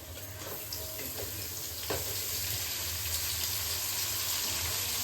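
Tomatoes and onions fry in a pan for a Tamil sardine fish curry, giving a steady, close, even sizzle throughout with a faint clink near the middle.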